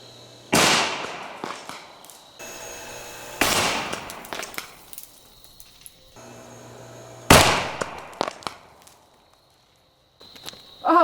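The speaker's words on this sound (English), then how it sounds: "Oh yes, it completely detonated in there." Repeated sharp detonations bursting into showers of sparks, three loud cracks each trailing off into hissing crackle, close by with short quiet gaps between them.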